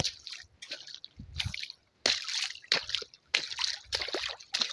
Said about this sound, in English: Gotta make a bigger splash.